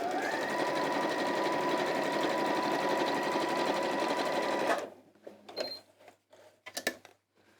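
A sewing machine runs steadily for several seconds, stitching black fabric along the edge of a seam on a quilted bag, then stops, leaving a few faint clicks and handling noises.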